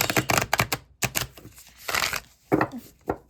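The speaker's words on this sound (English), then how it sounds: "Such a satisfying shuffle" A deck of cards with a rose petal finish is riffle shuffled close up, making several quick bursts of dense, crisp fluttering clicks separated by short pauses.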